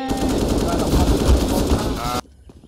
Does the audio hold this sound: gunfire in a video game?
yes